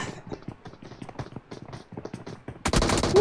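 Gunfire in a Call of Duty style competitive match on the Bat map, a steady run of sharp rapid shots followed by a loud dense burst at the end, close and prominent with no talking.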